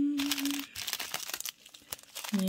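Hands rummaging in a plastic bag of diamond painting drills, heard as close crinkling and rustling in irregular bursts, with brief voiced sounds at the start and end.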